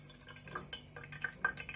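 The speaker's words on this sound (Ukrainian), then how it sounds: "Я зараз зливаю цю водичку, знову її закип'ячу і залию ще на 10 хвилинок" Water being poured off from jars of spiced pears during home pickling for winter, heard as a faint trickle with scattered small drips and splashes under a low steady hum.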